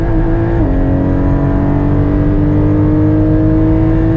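A loud Porsche GT4 engine revs and pulls hard on a race circuit, holding a steady high drone as it accelerates, close and continuous throughout.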